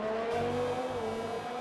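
A race car passing on a racing game's track on slick tyres, a steady engine whine with a slowly falling pitch as it goes by, moderately loud and alone.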